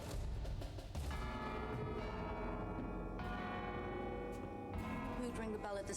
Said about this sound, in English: Who'd ring the bell at this hour?